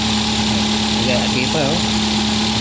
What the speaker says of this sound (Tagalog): Mechanical knock yun.